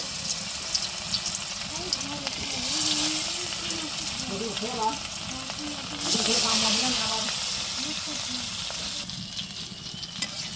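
Fish fries in hot oil in a wok, giving a constant close sizzle and hiss with a couple of louder surges as pieces shift, under a soft speaking voice.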